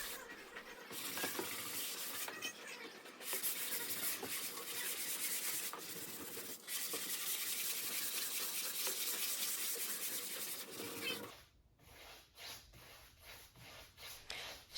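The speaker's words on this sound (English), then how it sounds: "I sanded the raised grain with 220 grit sandpaper" Hand sanding with 220 grit sandpaper over raised grain on a wooden dresser part, a steady close rasping rub for about eleven seconds that stops abruptly, followed by quieter scattered scrapes.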